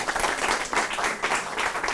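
A crowd in an auditorium applauds a speaker being introduced, with dense, even clapping from many people that swells slightly in waves.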